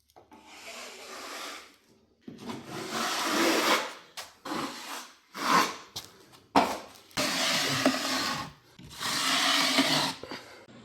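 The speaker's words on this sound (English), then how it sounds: "here we're going to be putting our 45-minute coat of mud on" A drywall knife spreads a 45-minute coat of mud across rough walls in long scraping strokes broken by short pauses, close and moderately loud.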